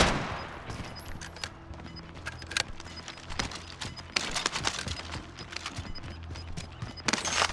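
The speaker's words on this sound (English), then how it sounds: "Incoming fire. No, they're shooting somebody." Gunfire during a battle royale match in a rebirth mode, with rapid bursts of shots and scattered cracks mixed with other game noise under a steady background.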